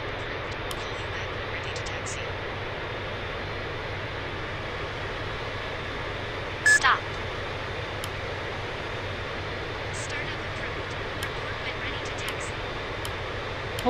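Steady droning whine of an airliner engine idling in Real Flight Simulator, a constant broadband hum throughout with one brief click partway through.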